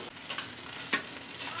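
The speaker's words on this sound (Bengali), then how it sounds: "এবার ভেজে রাখা মাছের মাথাগুলো দিয়ে দিচ্ছি। একটুখানি কষিয়ে নেব মশলার সঙ্গে মাথাগুলো।" Fried fish heads being sautéed with spices in a pan, a soft low sizzle with a few quiet stirring scrapes and one sharper clink of utensil against the pan.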